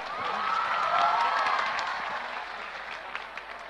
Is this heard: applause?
yes